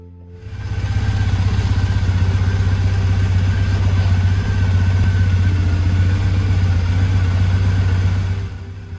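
A warm Triumph twin motorcycle engine runs steadily at close range, a deep continuous rumble with a faint mechanical clatter, holding an even idle throughout before cutting off at the end.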